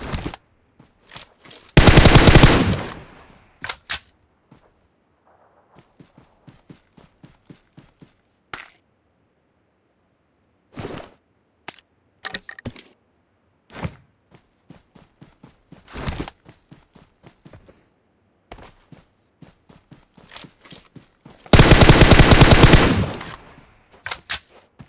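Bursts of automatic gunfire in the PUBG battle royale game on the Livik map, two long loud volleys at the start and end with scattered single shots and footsteps in between.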